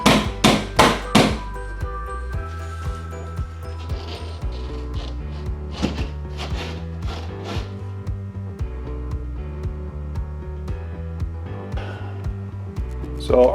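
A hammer taps several times in quick, sharp succession while a rear side window is installed on a 1999–2006 Chevy Silverado. Metallic ringing and scattered lighter knocks follow in the workspace.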